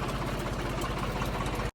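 A steady, low rumbling tractor engine idles close by, thrumming evenly before cutting off abruptly at the very end.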